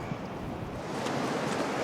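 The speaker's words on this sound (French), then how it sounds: "Il y a les vagues, là, quand même." Ocean surf on a Moroccan beach where horses wade toward rock arches, a continuous broad wash of breaking waves mixed with wind buffeting the microphone, fairly close.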